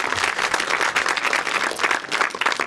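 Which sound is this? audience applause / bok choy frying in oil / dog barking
audience applause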